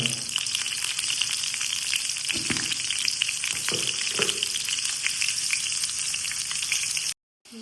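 Steady, loud sizzling of cumin tempering frying in generous hot oil, crackling continuously throughout with a few soft knocks of stirring.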